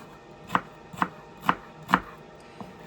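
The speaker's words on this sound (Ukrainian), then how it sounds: "Я так буду різати цибульку." Onion cut with a knife on a board, four evenly spaced crisp chops followed by a fainter fifth, close and clear against a quiet kitchen with no voices.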